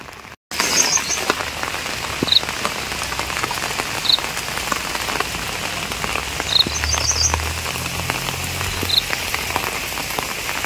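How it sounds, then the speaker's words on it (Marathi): Heavy monsoon rain falling steadily, a dense continuous hiss of drops with occasional faint chirps in the background and no talking. "पावसाने पुन्हा जोरदार बरसाला सुरुवात केल्याने"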